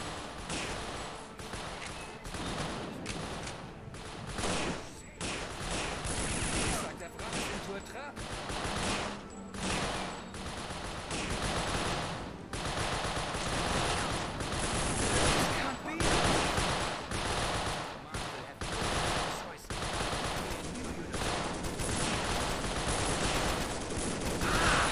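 Continuous battle noise from the World War II game Soldiers: Heroes of World War II, with machine gun fire and scattered gunshots rattling throughout at a steady, fairly loud level, with voices now and then.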